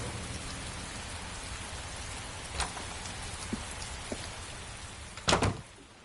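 Constant rainfall in the video game Heavy Rain hisses evenly, with a few brief louder knocks and a sharper splash near the end, no voices present.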